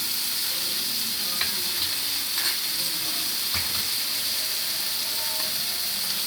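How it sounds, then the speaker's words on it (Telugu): Sliced onions sizzle in a hot pan with salt, cooked as a topping for adai dosa: a constant, close frying hiss with occasional soft stirring scrapes, no talk. "ఉల్లిపాయలు బాగా వేగుతాయి."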